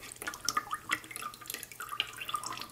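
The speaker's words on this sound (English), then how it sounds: "you're going to just let it drip." Excess water drips in small irregular drops from a tilted plastic cafeteria tray into a bucket, close and quiet, with no one talking.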